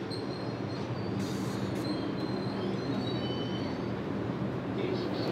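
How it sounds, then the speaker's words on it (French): A Paris metro train runs steadily, with a loud continuous rumble and thin high-pitched wheel squeals over it. No one speaks. "c'est au son du métro que l'apprenti boulanger débute sa première journée de travail"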